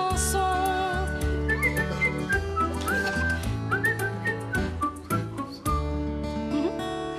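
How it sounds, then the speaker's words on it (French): A girl whistles a lively, wavering melody over steady backing music, the notes bright and close. "Mais tu siffles vraiment bien, ma grande, comme un oiseau."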